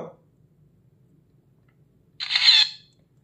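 A phone camera shutter, fired from a Fire-Boltt Blizzard smartwatch, clicks once with a short, crisp, bright snap after a stretch of near silence.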